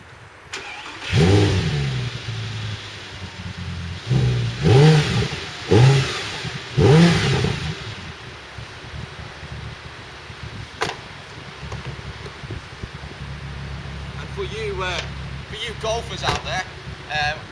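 An Audi R8 V10 Spyder engine fires up and is blipped through several sharp revs that rise and fall, then settles into a lower idle as someone talks.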